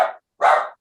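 Two quick barks from a pet dog, close and loud, separated by a short pause, with nothing else audible.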